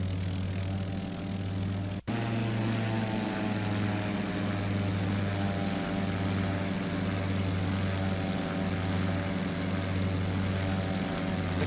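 Steady, loud drone of an airplane propeller engine in a flight simulator game, heard in replay, with a strong low hum and a brief dropout near the start before it resumes unchanged.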